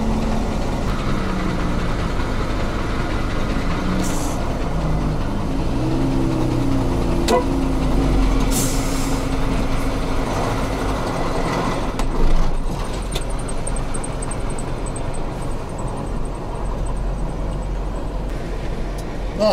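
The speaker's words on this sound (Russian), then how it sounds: "Автобус. Чуть-чуть сейчас мы его подвинем." A bus engine runs as the bus is shifted a short way. The motor keeps a steady, rough low rumble close by for the whole stretch, with a few brief knocks and a faint high whine near the end, and no talking.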